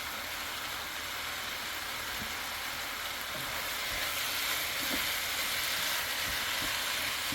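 Taco fried rice sizzles steadily in a hot pan as it is stirred, a constant frying hiss with a few soft scraping knocks from the utensil, close and without talk.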